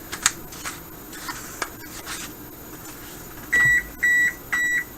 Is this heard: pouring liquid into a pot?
no